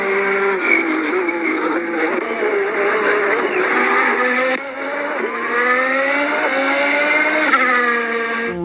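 Formula race car engine sound effect, loud high-pitched revving that climbs and shifts through gears in repeated rising sweeps, with a brief break midway.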